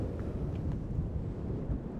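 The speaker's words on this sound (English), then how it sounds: "It's very, very windy," Strong wind roars across a Lake District hilltop on the Catbells trail, a low steady buffeting rumble against the microphone with no voices.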